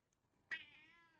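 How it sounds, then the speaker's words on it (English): A pet cat lets out a single clear meow, close by, a drawn-out harmonic call that fades slowly. Quiet surroundings before it, with no talking. "That is my cat."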